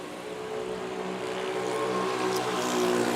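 Airplane on the runway at Manila's NAIA airport, a steady droning engine hum with tonal whine that grows slightly louder over a few seconds, moderately distant, no voices.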